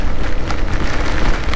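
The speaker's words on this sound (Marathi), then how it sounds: "एवढं फोर्सने पाऊस आहे." Heavy rain pours down during a motorbike ride, a loud, dense roar of rain and wind noise with scattered drop impacts.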